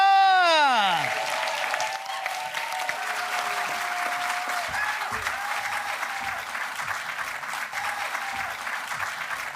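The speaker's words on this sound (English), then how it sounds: "I want applause, applause, applause all the way around the room until they get to this podium" Conference audience applause swells all around a room for a pitch session, loud and sustained clapping with a few cheers, following a brief rising tone at the start.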